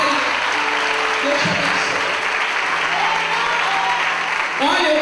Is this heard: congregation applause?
yes